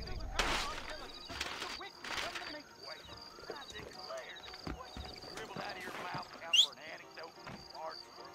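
Horse hooves clip-clop at a steady gait in the Western video game Red Dead Redemption, soft rhythmic thuds with game ambience and occasional louder bursts, heard alone without speech.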